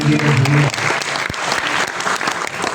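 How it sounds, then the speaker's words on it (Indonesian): A church congregation claps loudly and densely during a main worship service, with a voice briefly audible at the start before the applause fills the room. "Tepuk tangan buat Tuhan."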